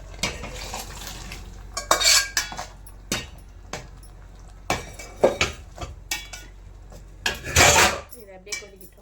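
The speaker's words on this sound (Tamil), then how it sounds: "இப்போ இந்த சுண்டல் எடுத்து ஊற்றிக்கலாம்." Chickpeas poured into a cooking pot, heard as a few rattling bursts with clinks of a metal vessel and utensils, close and fairly loud, separated by quieter gaps.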